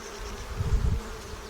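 Honey bees buzz at an open hive in a close, dense drone, with a brief louder swell as bees pass near.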